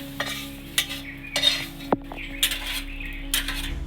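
Potatoes being stirred and fried in a little oil in a pan, with a series of sharp utensil scrapes and clinks against the pan over a soft background sizzle.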